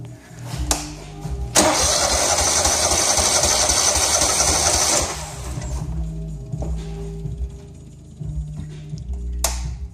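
A Lincoln Ranger 305G welder engine cranks over with its spark plugs removed and a compression tester fitted, a loud, even whirring burst of about four seconds, with quieter clicks and mechanical noise before and after.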